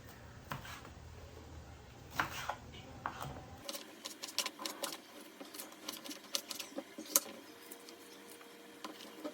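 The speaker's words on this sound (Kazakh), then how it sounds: "болгар перецін турап аламыз" Bell pepper being chopped with a knife, a quick irregular series of light taps and clicks on a board, fairly faint and close, with a low background hum that cuts out partway through, no talking.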